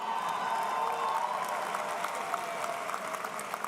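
Commencement audience applauding steadily at a university graduation ceremony, a dense wash of clapping hands that holds at an even level throughout, with scattered louder claps and no voices over it.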